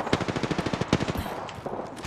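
Rapid automatic gunfire in the Apex Legends video game, a loud, fast burst of evenly spaced shots that tails off into a few scattered single shots.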